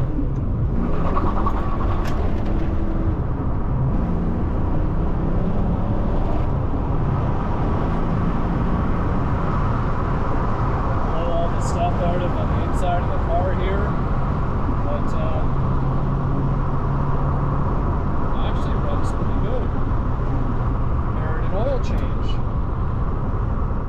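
A 1993 Texas DPS police car's engine pulls smoothly under acceleration, a steady loud motor drone sustained throughout, with people talking over it.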